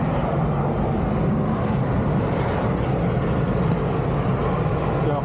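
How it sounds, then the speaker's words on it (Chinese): A yellow cargo airplane takes off at Haneda Airport, a steady broad jet roar heard from a distance, constant and unbroken throughout. "老远起飞了飞机起飞大概就这感觉"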